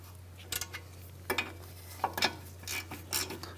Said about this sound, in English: with our 17mm socket, we'll go ahead and snug these up